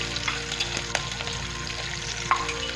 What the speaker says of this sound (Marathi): कांदा छान होता त्या तेलात तुपात चांगला भाजून घ्यायचा